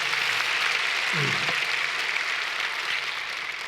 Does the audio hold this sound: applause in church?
yes